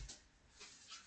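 A dog whimpers faintly in a classroom, a few soft high whines with light panting between them, quiet and close.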